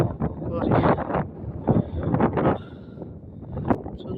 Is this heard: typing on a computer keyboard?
no